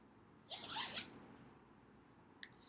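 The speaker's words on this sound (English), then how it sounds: "it's just a zipper, soft plastic zipper" A soft zipper being pulled for about half a second, close and fairly quiet, followed by a brief faint click.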